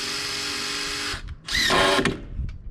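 A power drill drives screws in two close, loud bursts of whirring, with a short pause and some clatter between them.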